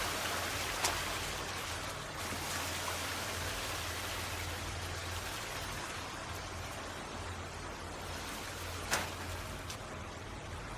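A steady, soft wash of flowing water fills a cave in the video game The Forest, continuous and even, with a couple of faint clicks and no voices.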